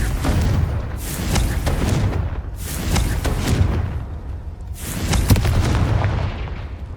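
Booming spell explosions in the Hogwarts Legacy combat game, including the Confringo fire blast. Several heavy, rumbling bursts come in quick succession, each with a broad crackling tail, with no talking over them.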